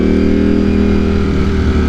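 A motorcycle engine idles with a steady, loud rumble, its auto blipper giving a smooth, continuous tone with no talking.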